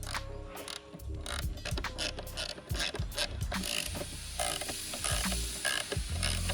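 A hand ratchet tightens a sway bar link bolt on a BMW 840ci suspension, giving rapid bursts of sharp metallic clicking in quick strokes with brief pauses between them.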